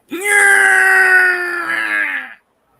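A Zeo Megazord collapsing effect from the Power Rangers toy-robot franchise: one loud, sustained groaning wail that holds a steady pitch for about two seconds, then slides down and cuts off into silence, with no voices around it.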